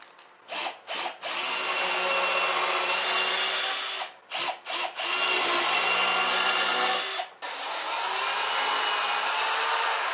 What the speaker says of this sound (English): now I'm going to go ahead and secure this inner board to the backboard with the 3/4 inch screws